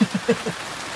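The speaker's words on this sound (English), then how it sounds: "It's raining, you got that hurricane thing." Rain falls outdoors near an MCI bus with straight-piped exhaust, making a soft, steady hiss. Under it are a few low throbbing pulses, and the whole sound is brief and moderately quiet.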